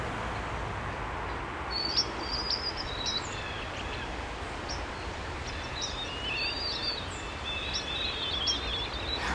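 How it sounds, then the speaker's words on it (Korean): Small birds chirp and trill in short, scattered calls in the garden of a terraced apartment complex, faint and somewhat distant over a steady outdoor hiss, with no talking. "정원을 보면 새소리가 들리더라고요."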